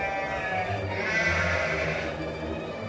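Goats on a mountain bleating in a steady wavering chorus, loud and close, with no talk over them.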